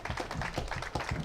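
Audience applause at a public ceremony on Place de Jaude in Clermont-Ferrand for the national day of wounded French Army soldiers, a short burst of steady clapping from a crowd.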